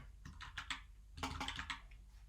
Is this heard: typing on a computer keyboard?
yes